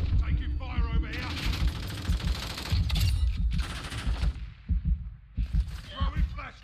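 Gunfire in a video game rattles in loud, dense volleys with short gaps, layered with game effects and brief voices. The shooting fades into scattered shots near the end.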